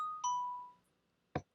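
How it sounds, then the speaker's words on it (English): A Minecraft redstone doorbell built from note blocks plays a clear two-tone chime, the second tone following shortly after the first, then fading, with a short click soon after. Quiet and alone, with no voices. "Now you got a doorbell."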